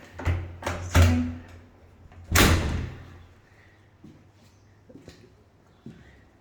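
A back door in a house for sale is opened and shut, giving a few heavy thumps and a loud slam followed by quieter knocks and rattles nearby.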